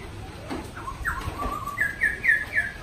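A pet bird, kept over two seasons, chirps several times close by, with short bright calls that turn into a quick series of repeated high notes toward the end, alone without talk.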